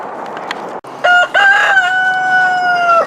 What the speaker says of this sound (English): Damn rooster.